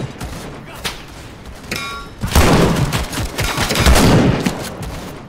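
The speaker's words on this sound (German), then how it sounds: "Jetzt kann man ein bisschen häufiger schießen" Gunfire in the WWI shooter game Over The Top: WWI, a sharp shot and metallic ring followed by a dense burst of rapid, loud firing and blasts that continue for several seconds.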